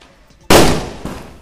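Neighbours' Diwali firecrackers go off outdoors: one loud, sharp bang followed about half a second later by a second, weaker burst, each with a short decaying tail and no talking.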